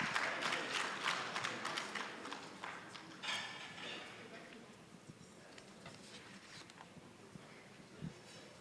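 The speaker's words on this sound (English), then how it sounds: "Let's give the panelists another round of applause." Applause for a panel at a UK–Ghana trade business meeting, loud at first then thinning to scattered claps, with talk in the background.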